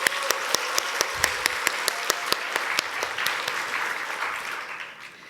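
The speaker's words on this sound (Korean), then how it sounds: "우리 청소년부 친구들 앞으로 더욱더 힘내라고 박수 한번 부탁드립니다" A church congregation at a Sunday service applauds its youth group, with loud, sharp claps standing out in a steady rhythm at first, then blending into a dense wash of clapping that fades away toward the end.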